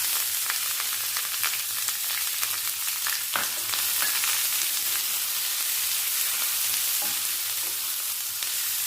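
Curry leaves fry in hot oil with a loud, steady crackling sizzle, dense and continuous, with occasional sharper pops and light stirring close by while cooking a brinjal and drumstick curry.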